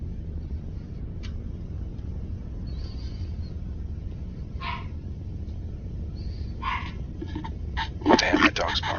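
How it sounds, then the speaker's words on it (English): A pet dog barking and yipping in the background, a few short faint barks rising to a louder burst near the end, under a steady low hum of room noise. "my dog's barking."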